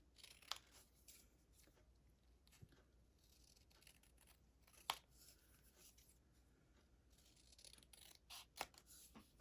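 Paper being trimmed with scissors while making a handmade gift card wallet, heard as quiet, sparse snips and soft rustles at close range with no talking.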